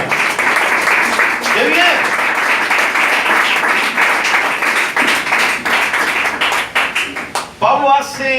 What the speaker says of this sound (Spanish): Denle un aplauso al Señor que vive.